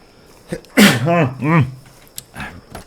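A single loud, close human sneeze with a sharp intake and drawn-out voiced burst, followed by quiet game sounds.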